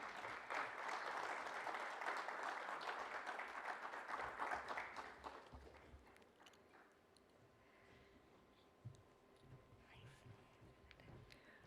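Audience applause welcomes a speaker at a fireside chat on innovation ecosystems, steady moderate clapping for about five seconds that then tapers off into quiet room sound with a few scattered claps.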